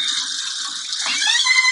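Water runs steadily from a tap or shower during a bath, a constant close hiss throughout with no talking.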